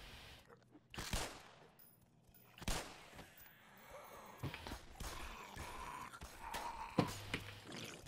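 Gunfire in the Black Mesa video game: a few sharp shots ring out, then scattered shooting and bursts over a busy game soundscape, with a voice now and then.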